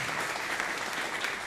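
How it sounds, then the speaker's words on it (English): An audience gives steady, dense applause for Jenny, a performer who has just played a piece, filling the room evenly at a moderate level with no voices over it. "I think we should give her a round of applause"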